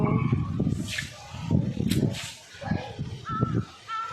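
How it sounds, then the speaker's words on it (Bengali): Several crow caws ring out from a distance on an open rooftop, with breezy outdoor noise and talk mixed in among them. "কাক ডাকছে ওদিক থেকে"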